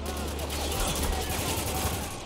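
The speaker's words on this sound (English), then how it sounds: "you're using a light machine gun" Light machine gun fire in the video game Spec Ops: The Line, a dense, continuous burst of rapid shots running loud and unbroken for the whole short stretch.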